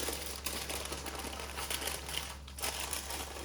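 A packet of Weber hickory wood chips is folded close by, producing a steady soft crinkling of foil or paper with a few sharper crackles over a low background hum.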